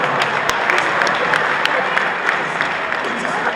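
An audience at a Nigerian political gathering breaks into applause, a dense wash of clapping with scattered sharper claps and a faint murmur of crowd voices underneath.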